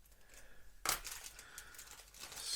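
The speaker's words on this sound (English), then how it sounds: "These are heat sealed bags, so we'll have to give them a quick cut to get into them." A scalpel slits open a heat-sealed plastic bag of model kit parts with one sharp, close crackling cut, followed by fainter rustles and crinkles of the plastic.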